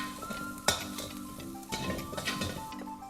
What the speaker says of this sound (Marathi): आणि हे व्यवस्थित असं मिक्स करून घ्यायचं आहे।